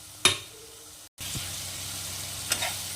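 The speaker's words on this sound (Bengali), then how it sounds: "তো এখন আরেকটু সময় মশলাটা কষিয়ে নেওয়ার পর দিয়ে দেব এক চামচ পোস্ত ও কয়েকটা কাজু বাদাম" Masala with ground poppy seed and cashew paste sautéing for a prawn bhuna, a soft sizzle broken by a brief gap, with a couple of sharp clatters of a spoon against the pan.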